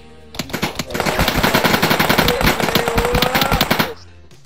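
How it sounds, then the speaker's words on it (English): Rapid automatic gunfire from the video game Sub Rosa rattles loudly and continuously for about three and a half seconds, a dense burst of overlapping shots that cuts off abruptly. "I'm being shot at, boys, I'm being shot at"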